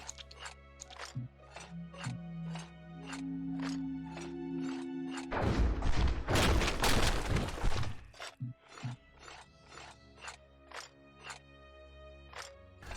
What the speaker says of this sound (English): it's pretty satisfying to shoot something and have it fall apart in a bunch of meaty chunks